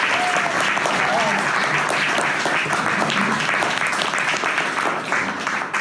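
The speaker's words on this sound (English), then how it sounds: "can I have just one more round of applause?" A crowd gives a sustained round of applause after pitch presentations, loud dense clapping throughout six seconds with cheering voices blended in.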